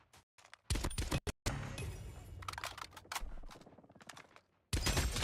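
Bursts of gunfire from Call of Duty Mobile during a world championship finals match, loud sharp shots and rapid volleys broken by short gaps.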